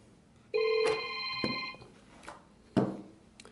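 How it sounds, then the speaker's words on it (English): A Grandstream GXV3370 video phone rings with an incoming call, giving one bright, multi-tone electronic ring close by, followed by a couple of soft handling knocks. "we're calling that GXV3370 phone right next to us as well."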